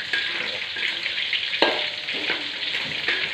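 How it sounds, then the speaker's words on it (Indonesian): Oil sizzles and crackles steadily as braised chicken fries, with a few sharp pops and the scrape of stirring. "Habis goreng tempe, saya goreng ayam yang habis diungkep tadi ya."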